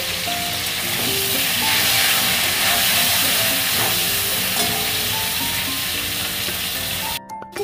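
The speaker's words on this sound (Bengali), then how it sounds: "ওই তেলেই এবার কেটে রাখা ফুলকপিগুলো দিয়ে দেবো। দেবো একটু নুন, দেবো হলুদ গুঁড়ো, দিয়ে ভেজে নেব।" Cauliflower pieces frying in oil with salt and turmeric, a loud, dense sizzle and hiss with scattered crackles and stirring clatter, cutting off abruptly just before the end.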